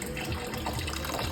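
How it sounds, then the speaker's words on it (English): Condenser water runs steadily in a mash boiler still setup, a continuous close broadband rush of flowing water with no talk. "Condenser water running"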